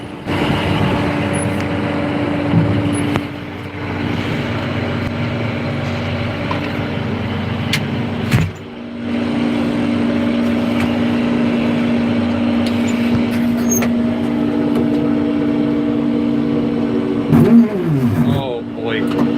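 A Massey Ferguson tractor's V8 engine, without a turbo, runs with a steady heavy drone through a day of seeding, its tone dipping briefly and shifting near the end while voices talk over it.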